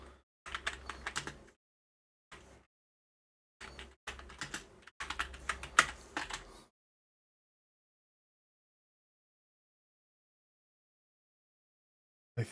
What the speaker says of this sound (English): Oh wait, why has it stopped me from typing? Let me type, please.